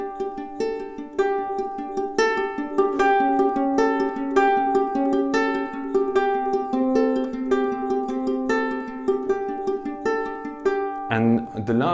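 A ukulele plays a continuous fingerpicked pattern with no pause, bright plucked notes ringing in a steady repeating rhythm, close and clear, ending with a brief strum.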